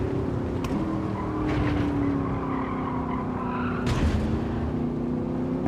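Race car in Gran Turismo 7 rolling through corners in a higher gear, engine droning steadily while tyres squeal and skid in short bursts, close and loud throughout with no talk.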